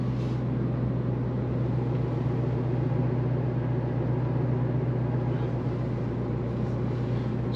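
An 800-horsepower Cobra's engine idles, heard from inside the cabin as a steady, continuous low rumble with a strong deep hum, unchanging throughout and with no voices.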